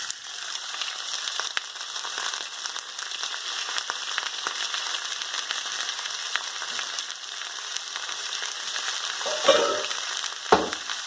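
Lamb sizzles and fries steadily in a pan with ginger and garlic, a constant close hiss with a few louder crackles and stirring scrapes near the end; no one talks.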